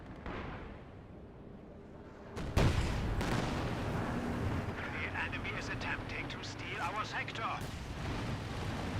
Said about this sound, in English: Incendiary mortar barrage from the Brits.